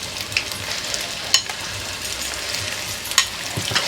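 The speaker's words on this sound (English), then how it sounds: "I have some oil which is already hot and some onions fried up. I'll go ahead and add some ground garlic" Ground garlic and pepper dropped into hot oil with already-fried onions for a Guyanese baigan curry, a steady close sizzle and crackle with occasional sharper spits and a stir of the pan.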